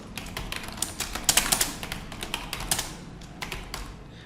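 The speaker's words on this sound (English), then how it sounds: "I was typing this word" Fingers type quickly on a computer keyboard, a close, dense patter of clicks and taps with a few louder keystrokes, heard alone.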